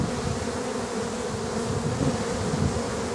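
A honeybee hive buzzes loudly and steadily, a dense, unbroken drone from many bees up close with no voices.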